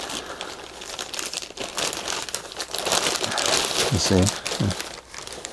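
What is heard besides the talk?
Ziploc plastic bags crinkling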